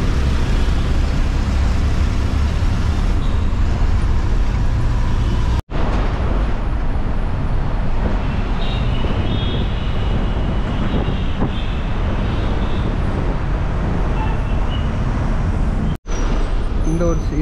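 Heavy road traffic near an airport route in Chennai, heard from inside a moving MTC city bus: a continuous loud engine and road roar with passing vehicles, broken by two brief dropouts.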